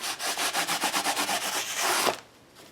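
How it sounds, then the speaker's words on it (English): Sandpaper is rubbed over a page in quick, even back-and-forth strokes, a dry rasping rhythm of about a dozen close, loud passes, ending in one longer scrape before it stops. "All right, I'm going to take the sandpaper to this page."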